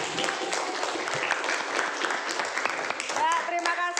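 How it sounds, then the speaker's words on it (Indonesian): Classroom of students clapping for a presenting group, a steady burst of many hands that fades near the end as a few voices start talking over the last of the applause. "Tepuk tangan untuk kelompok 2."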